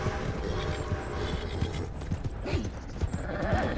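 Hooves clip-clop steadily from a horse in the Western video game Red Dead Online, with a couple of whinnies rising above the rhythmic footfalls, close and moderately loud.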